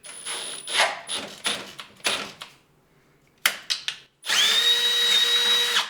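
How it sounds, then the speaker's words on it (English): A power drill sends a bit through a suspension bracket on a Jeep LJ: short whirring bursts start and stop, then a steady, loud drilling run with a rising whine cuts through the metal quickly. "So I'm going to send this drill bit right through there."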